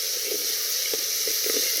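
Tomatoes sautéing in hot oil give a steady, close sizzle and hiss with small spattering pops, continuous and moderately loud, with no talking.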